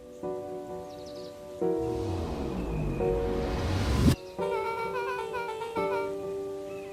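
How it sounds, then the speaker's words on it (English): Torrential rain in the video game Beacon Pines swells into a loud, dense hiss that builds for a few seconds and then cuts off sharply. Soft, tonal game music plays before and after the rainfall. "the heavens opened up, unleashing torrential rain"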